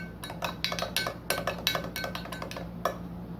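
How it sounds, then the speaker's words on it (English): A spoon clinks rapidly against the side of a glass while stirring wine yeast into water, a quick run of bright, close taps with no talk. "so give it a quick stir."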